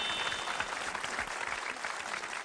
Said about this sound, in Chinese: 来，我们鼓掌。